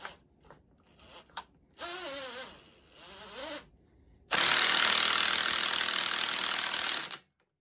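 A low-powered impact wrench tightening the clutch retainer nut on a Panhead chopper, first a few short bursts, then a loud sustained rattling hammer lasting about three seconds before stopping.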